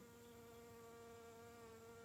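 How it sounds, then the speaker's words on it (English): A large insect buzzes steadily around an indoor art studio, its drone holding constant and fairly close throughout with no talking over it. "Big old bug in here buzzing around."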